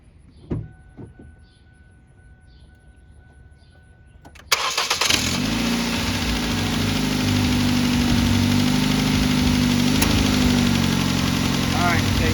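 A Ford Focus engine cranks and fires up after a few seconds of quiet clicks, then settles into a steady, loud idle with the A/C compressor engaged, a constant droning hum with a faint whine on top.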